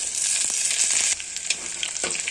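Onions and dried red chillies frying in hot oil, a loud steady sizzle close by that softens partway through, with a few light stirring clicks.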